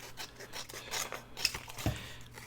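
Scissors trim around paper tag toppers, making quiet, close snipping and scraping as the blades cut through the paper in short, uneven strokes.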